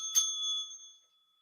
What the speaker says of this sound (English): Ring the bell. Ring the bell.